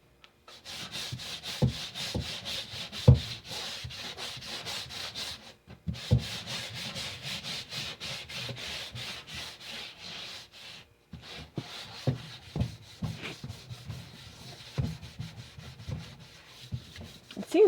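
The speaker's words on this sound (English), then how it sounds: "let me see if I can scrub a little bit over the whole thing." Steady scrubbing on a soap-scummed utility tub, a continuous close rubbing and brushing with brief pauses and sharper knocks of the scrubber against the tub surface.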